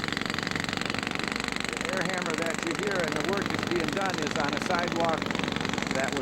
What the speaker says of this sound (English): The air hammer that you hear and the work that's being done is on a sidewalk